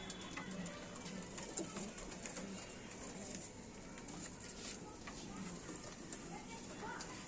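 Soft cooing of teddy pigeons for sale amid a steady background murmur and faint chatter, with occasional light rustles and clicks throughout.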